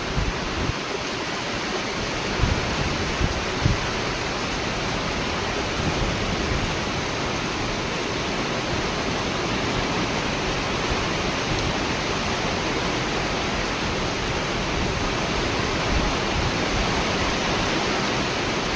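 Heavy floodwater rushing past a room during monsoon rain, a dense, steady roaring wash with no pauses, moderately loud and unbroken throughout.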